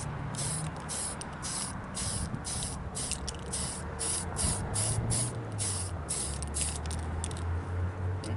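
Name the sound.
spray painting a second coat on an RC car body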